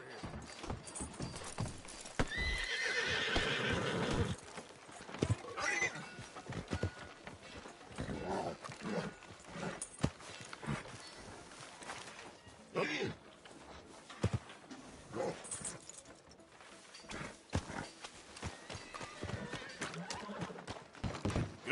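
Horse in the video game Red Dead Redemption 2, irregular hoof clip-clops and snorts with an occasional whinny, moderately close, intermittent throughout and fairly quiet.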